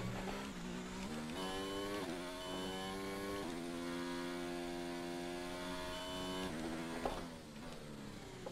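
Formula One race car engine in the F1 2019 video game at Bahrain screams at high revs, with rising pitch sweeps and several sharp downshift blips, loud and continuous.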